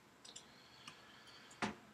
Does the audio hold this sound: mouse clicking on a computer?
yes